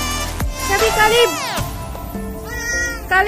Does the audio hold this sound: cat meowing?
yes